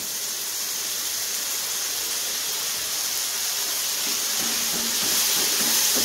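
Meat oil sizzles loudly as it is poured into frying masala for an egg tarka, a dense continuous hiss that swells slightly toward the end, with faint clatter underneath.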